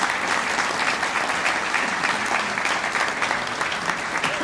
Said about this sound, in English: Let's give a round of applause to the community mission team.